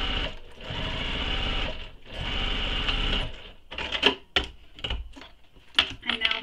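A sewing machine runs a long basting stitch through bag fabric, humming steadily in two continuous runs, then breaking into short stop-start bursts and clicks, close and fairly loud.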